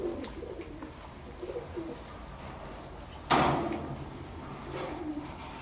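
Pet pigeons coo softly and repeatedly as they wait to be fed, with a brief louder rustle or knock partway through.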